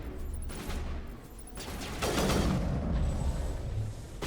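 A triple-shot weapon firing in Mass Effect, several heavy blasts spaced across a few seconds, loud and close, with a deeper booming burst in the second half.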